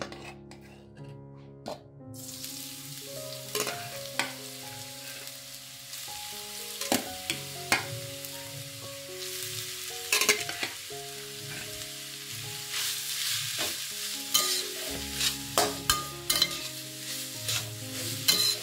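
Grated carrots fry and sizzle in a pan for carrot halwa, with a steady hiss broken by repeated scraping and stirring knocks, close and moderately loud, no voices.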